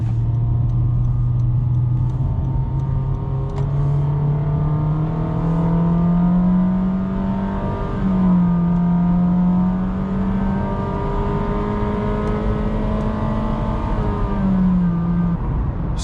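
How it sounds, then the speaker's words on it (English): A 2022 Honda City engine in sport mode drones steadily from inside the cabin, its pitch rising gradually as revs climb and then dipping briefly, with a muffled low rumble throughout. "the engine noise we can clearly hear inside"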